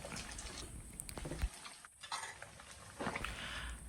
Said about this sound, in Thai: เดี๋ยวเราจะทอดด้านนี้นะครับ ให้เหลืองทั่วๆกันครับ